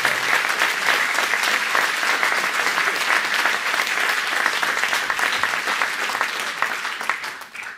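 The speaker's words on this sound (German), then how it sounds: "Aber nochmal einen riesen Applaus für unsere Klarinetten" Sustained, dense audience applause for the clarinet section at a brass band concert, loud and steady throughout before easing slightly at the very end, with no talking.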